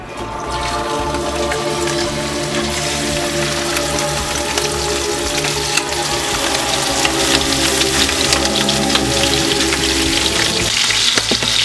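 Duck skin fries in oil in a regular pan, a dense, steady sizzle with crackling spatter that holds loud and close throughout, no voices.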